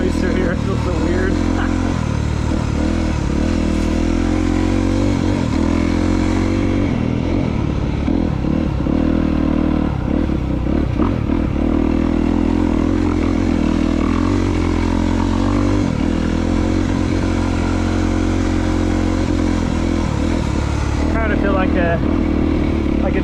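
A dirt bike engine revs and drones as it rides along a trail, loud and close with rising and falling throttle and clattering, while a rider talks over it.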